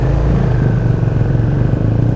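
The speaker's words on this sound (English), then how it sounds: "It looks like you've lost your exhaust. That is noisy. It's really noisy." A motorcycle that has lost its exhaust runs loud and close, a raw, rumbling, clattering engine note that holds steady throughout with no voices over it.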